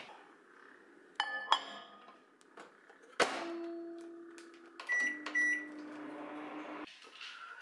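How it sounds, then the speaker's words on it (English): Kitchen sounds: a microwave door clunks shut, then beeps, a loud hum as it heats a mug cake, and more beeps, quiet and close. "Let's chuck it in the microwave."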